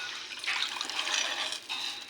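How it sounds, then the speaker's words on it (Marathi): Water pours from a glass into a pot of sprouted-legume soup, a close, continuous splashing gush lasting about two seconds with a brief dip before the end. "मी 2 ग्लासने पाणी टाकत आहे"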